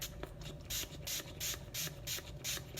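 Record cleaning solution from a GEM Dandy cleaner is sprayed onto a vinyl record in a quick series of about eight short, close hissing bursts in a steady rhythm, with no talking.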